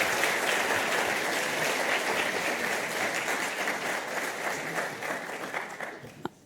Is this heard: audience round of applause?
yes